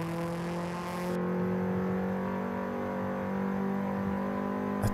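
Honda CRX with a swapped B16 engine revving high in Forza Horizon 5, a steady sustained wail held near full revs for several seconds with no talking.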